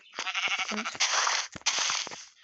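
Sheep in a Minecraft survival game give short, harsh bleats in quick succession, loud and close with brief gaps between them.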